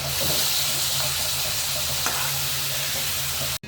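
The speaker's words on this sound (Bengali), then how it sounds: "মশলাটা একদম কষে টকবক টকবক করতেছে, মাছটা দিয়ে দিই।" Dense, continuous sizzling and bubbling of fish frying in hot oil with a well-cooked, bubbling spice paste, close by and unbroken, with a faint clink at one point.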